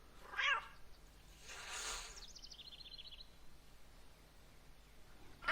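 A pet cat in the point-and-click adventure game Ceville meows twice, a short cry near the start and a longer one around the middle, with a faint chirp after it and another short meow at the end, over a quiet background.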